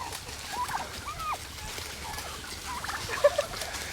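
Turkeys gobble faintly in a yard, a few short, distant calls scattered over a steady outdoor background.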